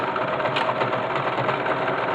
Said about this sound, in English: Now we will top stitch around each of those three sides on the sewing machine